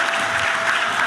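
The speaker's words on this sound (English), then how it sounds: "Clap it up, round of applause." A school assembly audience gives a round of applause for students, a dense, even burst of clapping at steady loudness.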